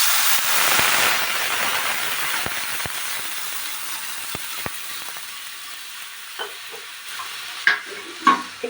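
Moong dal tempered with mustard in a pan, with water poured in, sets off a loud hissing sizzle that slowly settles into a softer simmer, broken by a few sharp clicks and utensil knocks.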